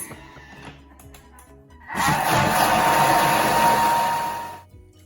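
A Thermomix blends crêpe batter at speed 6, whirring up to a loud, steady high-pitched spin for a few seconds before stopping. Quieter kitchen handling sounds come before it.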